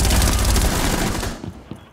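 Rapid bursts of gunfire in Rainbow Six Siege, loud and dense at first, then thinning into a few scattered shots as the volume falls away.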